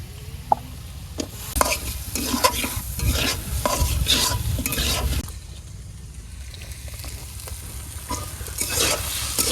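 Potatoes fry with cumin paste, turmeric and salt in a pan for khichuri, with repeated close scraping strokes of a spoon over a continuous oily sizzle, pausing briefly before the stirring resumes.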